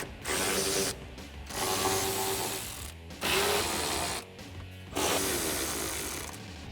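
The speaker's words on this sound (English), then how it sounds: "that is done by removing the 4 11mm bolts from inside the trunk" Ratchet wrench cranking out the four 11mm bolts that hold the taillight housing inside the trunk of a 1999-2004 Ford Mustang, loud and close, in four bursts of rapid clicking separated by short pauses.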